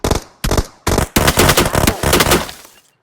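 Bursts of automatic gunfire from a shooting video game: three short volleys followed by a longer sustained stream of rapid shots, loud and close, trailing off at the end.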